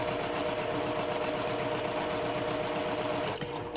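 A sewing machine stitches a quarter-inch seam in quilt block pieces, running at a fast, even, rattling pace close by, then slowing near the end.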